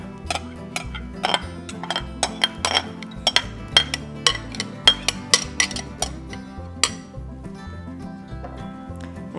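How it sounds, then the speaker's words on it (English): Potato salad with chopped eggs and sauce being stirred in a pot, giving irregular clinks and knocks of a utensil against the pot, close and fairly quiet with no talk. "And just start stirring that up."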